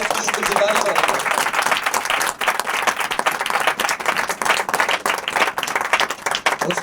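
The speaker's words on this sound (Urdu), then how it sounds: "اس لیے ہم یسوع نام کے لیے زوردار تالیاں بجائیں گے" A church congregation claps loudly and continuously in praise of Jesus, a dense wash of many hands that holds steady throughout, with voices faintly audible underneath.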